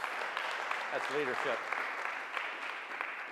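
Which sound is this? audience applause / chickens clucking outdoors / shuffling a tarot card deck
audience applause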